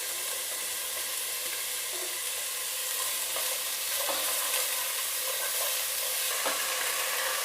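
Diced mushrooms sautéing in a pan over a medium flame for a quinoa lentil soup, giving a steady, close sizzle with faint stirring scrapes throughout and no talking.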